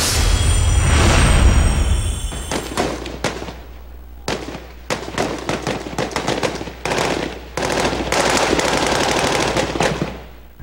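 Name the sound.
soldiers' rapid gunfire during Marawi City fighting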